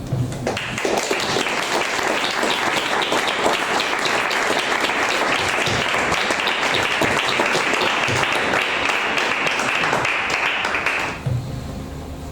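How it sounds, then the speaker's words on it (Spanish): Sustained audience applause fills a book presentation, a dense steady roar of many hands clapping for about eleven seconds before tapering off abruptly. "quería pedir un aplauso enorme para Víctor"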